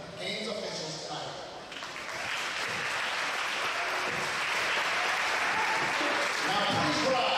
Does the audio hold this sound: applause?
yes